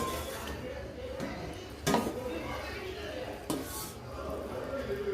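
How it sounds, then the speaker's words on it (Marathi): Vegetable pulao being served from a pot onto a plate, soft scraping and a couple of sharp metallic clanks of a spoon against cookware, close and fairly quiet. "आपण एकाला एका प्लेटमध्ये काढून घेऊ"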